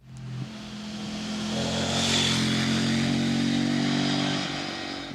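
A CFMOTO 800NK 800cc roadster motorcycle engine revs up sharply, holds a loud throaty roar for several seconds, then eases off.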